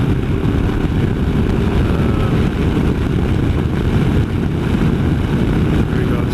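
BMW R 1250 RS motorcycle with a Puig Racing screen at speed, giving a steady, loud roar of wind buffeting over low engine drone that holds constant throughout.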